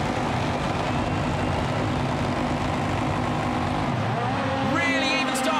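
Rallycross race cars revving their engines at the start of a World RX final in Great Britain, a loud continuous roar with dense low rumble throughout, shifting near the end as cars pull away with tyre noise.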